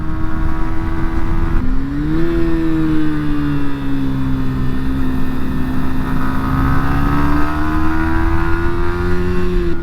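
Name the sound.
Yamaha MT125 or R125 motorcycle engine revving while riding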